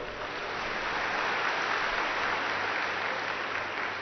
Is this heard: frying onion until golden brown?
no